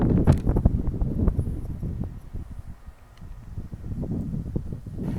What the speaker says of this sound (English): It's actually not a bad day, except for the wind.